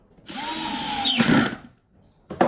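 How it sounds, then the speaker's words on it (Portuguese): A power drill bores a hole in wood while a bookshelf is built, one sustained close whine for over a second before winding down, then a brief second burst after a pause. "E aí eu faço aqui os furos."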